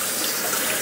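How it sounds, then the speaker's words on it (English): Running tap water rinses excess salt off home-cured bacon destined for an offset smoker, a steady close splashing wash with no pauses and no voices. "And now we're just going to rinse off any excess salt."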